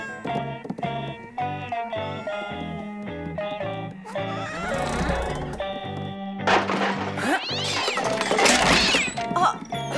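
A cartoon cat meows and caterwauls loudly over busy music, with repeated wailing cries that grow more frantic toward the end, alongside bangs and crashes.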